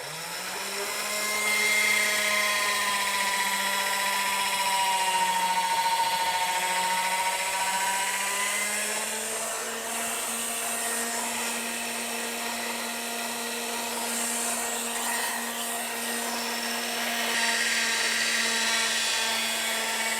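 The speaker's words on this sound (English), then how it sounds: "So now we have our pasta machine, and we want to thin that down." A motorized pasta machine rolls pasta dough thinner with a steady, loud electric whine that dips and then settles at a slightly higher pitch partway through, with no talking.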